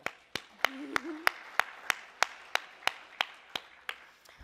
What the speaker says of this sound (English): I want to give all of you a round of applause first.